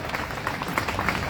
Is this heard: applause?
yes